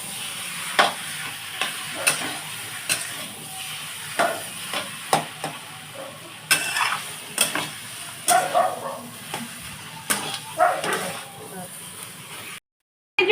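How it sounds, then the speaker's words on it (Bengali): Dosa filling with chili flakes is stirred in a frying pan, a run of regular scraping strokes over a continuous sizzle, close by, with a voice talking at times over the cooking. "আচ্ছা, আমি এবার নাড়ছি এটা।"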